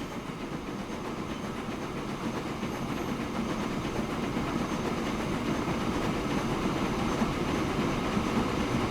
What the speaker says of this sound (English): Wait till this train has passed.